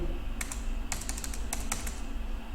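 Computer keyboard typing while a document is filled in in MS Word: a few quick bursts of keystrokes with gaps between them, close and clear over a steady low hum.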